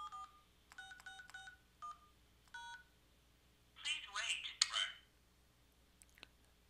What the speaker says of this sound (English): I'm going to let it dial it. So enter my extension number.